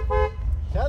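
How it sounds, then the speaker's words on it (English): Horn of a 2007-built Superformance AC Cobra Mk III replica, registered as a 1965 car, gives two short, close, brassy toots: a longer blast first, then a brief second honk after a pause, over a low idle rumble. "Wonderful horn."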